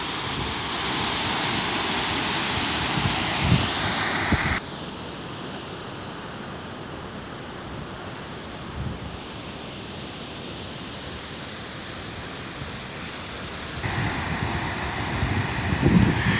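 Water gushes from the Orós dam valve in a loud, steady roar with wind buffeting the microphone; the level drops partway through and rises again near the end, with no talking.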